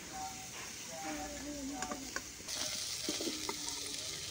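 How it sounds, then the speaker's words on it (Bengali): Freshly fried prawns crackle and sizzle in hot oil in a pan under a steady hiss, with small pops and scraping clinks as they are lifted out. "এখানে চিংড়ি মাছগুলো ভেজে নিয়েছি একদম ভালো করে। এগুলোকে এখন তুলে নেব।"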